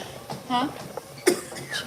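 Two or three short, sharp coughs from someone nearby, separated by brief pauses, with some quiet vocal sounds between them.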